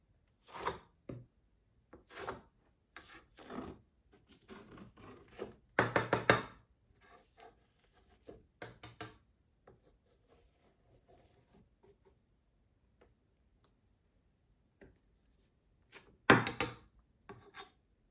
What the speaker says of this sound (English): I think what I'm going to do is scrape this off